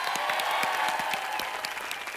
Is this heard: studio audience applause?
yes